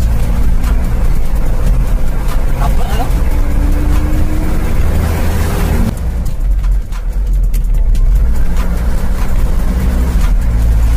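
A truck's engine drones loudly and steadily the whole time while it is being driven, a constant low rumble with people talking over it.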